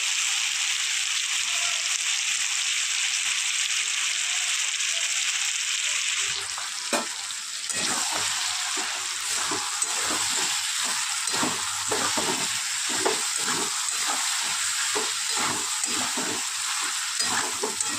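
A prepared spice paste fries and is stirred in a pan, giving a loud, steady sizzle broken by repeated scraping stirs throughout.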